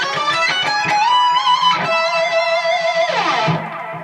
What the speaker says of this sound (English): it's a really fast run, a fast ascending run